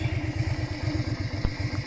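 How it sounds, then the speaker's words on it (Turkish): A Honda Shadow 125 V-twin motorcycle idles close to its single exhaust, giving a rapid, even, throbbing pulse with a slight mechanical clatter on top, loud and steady with no talk. "Bir de şöyle egzozun olduğu kısmından göstereyim."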